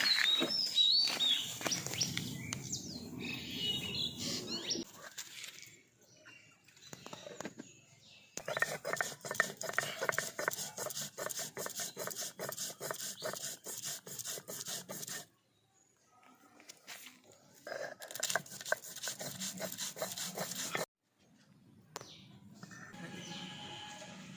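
Cashew and poppy seeds being ground into a spice paste for a vegetarian dhoka curry, heard as repeated rubbing, rasping strokes in bursts separated by short pauses, with faint bird chirps in the background.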